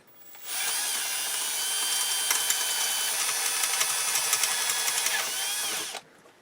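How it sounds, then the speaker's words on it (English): A power drill whines steadily for about five seconds up close, drilling out screw holes with a 0.116-inch bit in a Yamaha CR-1020 receiver part, its high buzzing pitch holding even before cutting off. "So I'm drilling these holes out with a bit that's 116 thousandths wide."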